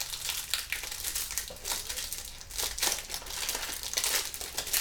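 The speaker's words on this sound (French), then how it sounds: "Donc là vous voyez un mec en train de galérer pour un paquet de cartes." A wrapped pack of cards is being fumbled open, with continuous close crinkling and crumpling of plastic wrapper in irregular bursts, fairly quiet and without talk.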